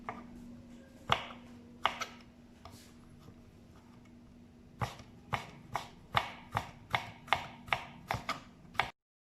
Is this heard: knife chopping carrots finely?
yes